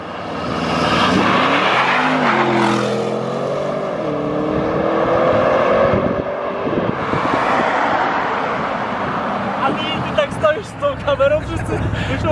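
Audi RS7 with 600 HP accelerating hard, a loud engine roar climbing through gears with rising pitch and shift dips, then settling as wind and road noise take over with a few brief voices.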